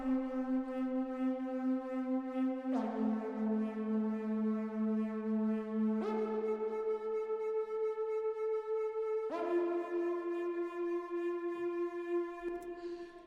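The Cutting Slide preset from the Orbit Compendium bank in the Flex synth plays sustained, harmonically rich tones whose pitch slides between a few long held notes. It is steady and prominent throughout, with no voices.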